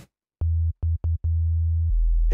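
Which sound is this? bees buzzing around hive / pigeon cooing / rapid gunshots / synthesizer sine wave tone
synthesizer sine wave tone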